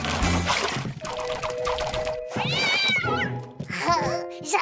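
A cartoon cat meows and caterwauls in several drawn-out, wavering cries, loud and close, mixed with music and short splashes.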